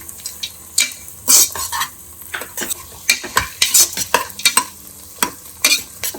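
Frying in a pan ahead of adding cashews for a chicken keema pulao in a pressure cooker, with loud bursts of metal spoon scraping and clattering over a low sizzle, close and irregular.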